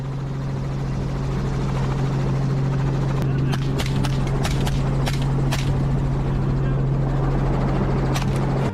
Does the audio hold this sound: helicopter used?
yes